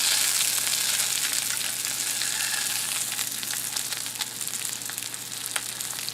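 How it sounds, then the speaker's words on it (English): Seasoned potatoes fry in a pan, giving a steady, close sizzle with crackling pops scattered through it and no voices over it. "the seasoned potatoes are making a little bit of noise as they fry"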